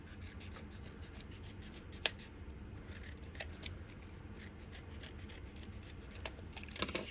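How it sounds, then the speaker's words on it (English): Scissors trim excess white paper from a papercraft flower shaker window, giving a faint, steady rubbing cut with a few sharp snips. "that is what our handy dandy scissors are for. So I can just come in here and trim off any of this excess white."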